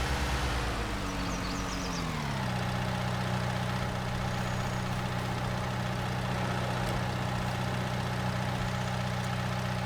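Case tractor engine in Farming Simulator 19, a steady low idle hum that dips in pitch after a couple of seconds and then drones on evenly, with no talk.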